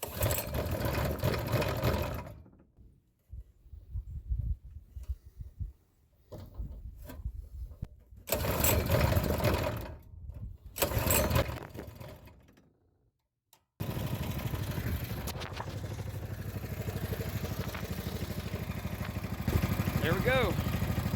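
An Amazon 7.5hp mud motor runs with a rapid, ticking small-engine rattle, sputtering and cutting out a few times before catching and running steadily, loud and close.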